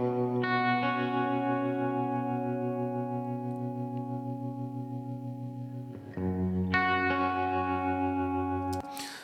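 A distorted electric guitar with EQ and limiting holds long, thick chords, one after another with a short break between, sounding compressed and bright.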